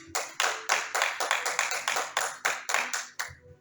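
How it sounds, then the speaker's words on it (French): A church congregation claps in a steady rhythmic beat, about a dozen crisp, evenly spaced claps close by, then stops abruptly. "Acclamons la parole de Dieu."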